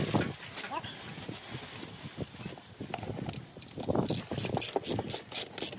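Metallic ratchet clicks from a wrench tightening a fitting on a plaster pump manifold during servicing, close and in short bursts, getting busier toward the end, with someone talking over parts.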